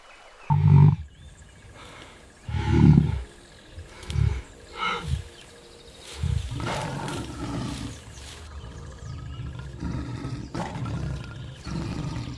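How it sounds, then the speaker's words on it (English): A lion roars in the wild, several deep, heavy bellows in separate bursts followed by lower grunting calls that trail off, loud and fairly close with no talk. "That is when it appears, the lion."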